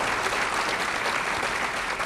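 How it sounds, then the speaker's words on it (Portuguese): Dense applause from an audience at a formal ceremonial session, steady and close throughout, with no distinct voices. "Gostaria que todos dessem até uma salva de palmas para os vereadores por essa iniciativa."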